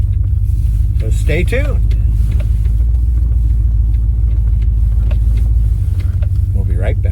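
A 1997 Land Rover Discovery with a 4-liter engine rumbles along at a steady, heavy drone, road noise filling the cabin, with someone speaking briefly over it.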